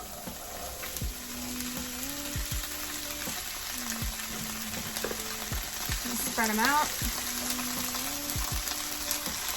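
Broccoli and other vegetables hit a hot pan for a tofu peanut butter stir fry, giving a loud, steady sizzle with stirring scrapes throughout. A voice briefly speaks over it.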